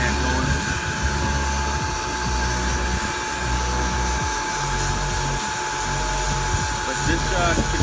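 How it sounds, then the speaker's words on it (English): A DIY flue blower for an induced-draft wood burner, its motor salvaged from a small handheld vacuum and spinning a metal impeller, whines steadily and loudly throughout with a high-pitched, drill-like tone, while someone talks over it. "This particular blower came out of one of those small little handheld vacuums that has a metal impeller"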